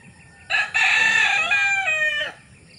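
A single rooster crows close by, one long loud cock-a-doodle-doo lasting about two seconds over quiet background.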